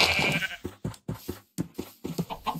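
Repeated sheep bleats from a video game, a series of short cries in quick succession, fairly close and loud, with no talking over them.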